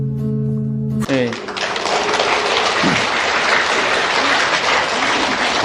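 Loud crowd applause bursts in suddenly after a brief tonal intro and continues steadily, a thick roar of clapping from a lecture audience.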